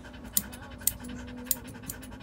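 A standard poodle pants close by in quick, rhythmic breaths, with a few sharp clicks from the dog's mouth.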